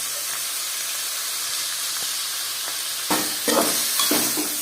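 Chili powder fries in a pan for a chicken curry, a steady hissing sizzle that turns louder with stirring scrapes and spatters in the last seconds.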